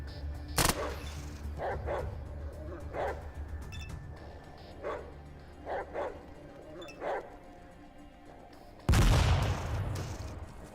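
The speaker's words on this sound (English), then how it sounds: "Some rats attack me, some stalkers are here to help though" Combat in the ATOM RPG video game as rats attack alongside stalkers: a sharp blast early on, then repeated yelping, barking-like creature cries in short bursts, and a loud burst of noise near the end.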